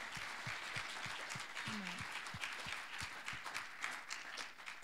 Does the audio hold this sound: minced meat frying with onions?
no